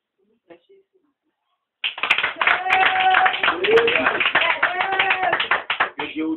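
A church audience claps to welcome the pastor, beginning abruptly after a moment of near silence and continuing as brisk, uneven clapping mixed with a few voices and cheers close by.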